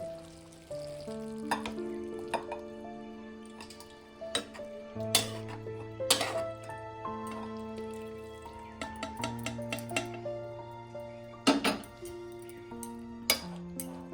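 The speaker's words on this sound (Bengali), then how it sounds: "আমি এবার গ্যাসটাকে অফ করে দেবো, দিয়ে তরকারিটা ঢেলে নেব।" A fig and shrimp curry is tipped from a pan into a serving dish, with soft sizzling residue, scattered clinks and scrapes of utensil on metal, and sharp knocks of pan against dish, close and intermittent.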